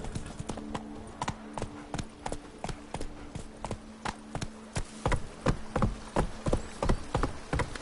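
Roach, a horse in The Witcher 3 video game, walking with steady, evenly spaced clip-clopping hooves, close and distinct, over a faint background hum with a light insect-like buzz.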